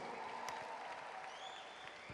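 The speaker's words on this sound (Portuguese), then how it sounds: "Uma salva de palmas aqui pro Poçan" Faint, distant clapping from a church congress crowd of Baptist youth, a thin wash of applause with a few scattered sharper claps, heard from far off.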